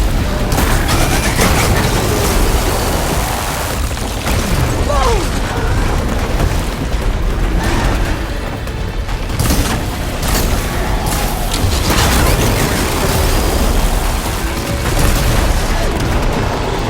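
Machine exploding in the video game Horizon Forbidden West on PS5, a loud sustained rumble of booms and bursts with battle noise and game music throughout, voices talking over it.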